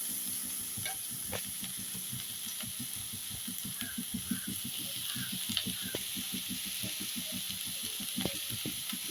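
Crushed garlic and onion sauté in a pan for a spicy crab curry, with a soft continuous sizzle under rapid, rhythmic spatula scrapes that go on throughout, quiet and close.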